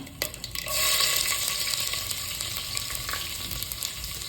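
Mustard seeds dropped into hot oil for a Kundapura-style crab sukka, a loud sudden sizzle that stays as a steady crackling fry, close up.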